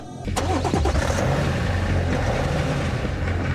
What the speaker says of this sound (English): It appears to be a normal BMW 5 Series until you start it up.